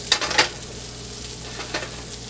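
A knob of butter melts and sizzles in a frying pan for scrambled eggs, with a low steady hiss under a few quick scraping clinks near the start and one more toward the end.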